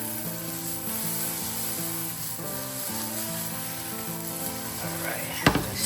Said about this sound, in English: Looks like the vegetables are getting a little steamy right now.